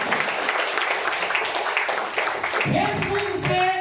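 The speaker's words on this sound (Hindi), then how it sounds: "मोहन चौधरी सर के लिए जोरदार ताली होनी चाहिए" Loud, dense applause from the audience at a Vestige gathering, clapping for Mohan Chaudhary. It is steady and crackling for a few seconds, then voices and tonal sound come in over it.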